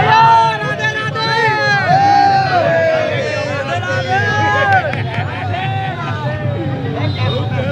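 Dense festival crowd hubbub at Barsana's Lathmar Holi, a loud, continuous swirl of many overlapping voices and shouts, close and busy throughout with no pause.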